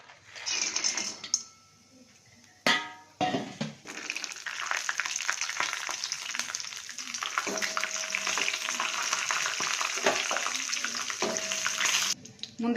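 Cashews fry in hot ghee in a kadai, a steady loud sizzle with stirring scrapes and a few brief breaks, no talking.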